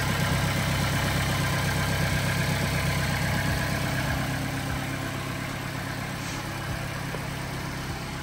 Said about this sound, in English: Engine sounds perfect.